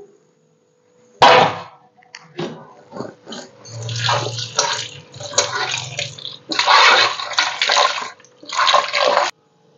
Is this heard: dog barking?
no